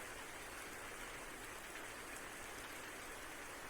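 Steady rain falls in the farm world of Farming Simulator 19, a dense, even hiss of drops on surfaces that runs unbroken with no talk.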